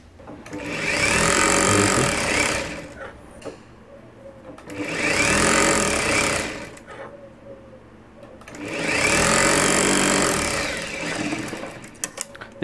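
A sewing machine stitches a Rajputi suit in three loud, sustained runs of fast whirring, each lasting a couple of seconds and separated by short pauses.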